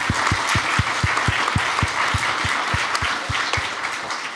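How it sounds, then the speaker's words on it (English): Audience at a health conference claps to thank the panel members, producing a full, steady round of applause with a rhythmic beat of individual claps running through it. "can we have another clap just to thank our panel members again?"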